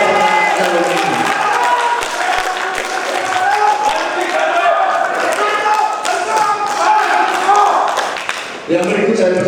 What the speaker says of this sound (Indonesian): mari kita memberikan tepuk tangan yang meriah kepada kedua pasangan calon ini